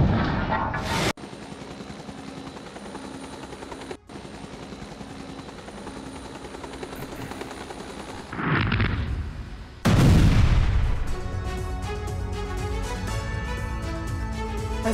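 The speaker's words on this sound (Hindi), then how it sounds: "टारगेट को उड़ा दिया गया।" An Iranian Shafaq missile strikes a target about 20 km away, heard as a continuous rushing roar broken by abrupt cuts, followed by a loud blast and a long rumbling tail.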